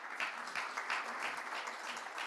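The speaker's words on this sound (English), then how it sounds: "a round of applause for my esteemed panelists" At a business conference panel on India's insolvency story in Mumbai, the audience applauds the panelists: a short, soft, continuous patter of clapping heard from a distance.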